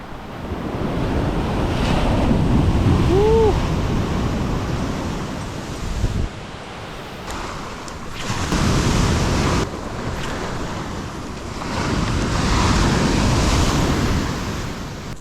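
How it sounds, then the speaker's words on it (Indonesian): Rough surf crashes onto a beach in strong wind, heavy breaking waves rising and falling in repeated loud surges with steady wind rumble and no talking. "Ombaknya ganas"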